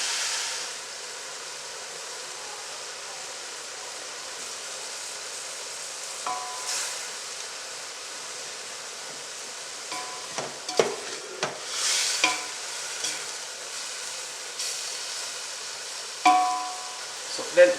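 Mushrooms fry in a pan on a gas stove, giving a soft, steady sizzle with occasional stirring clatters and scrapes growing more frequent toward the end.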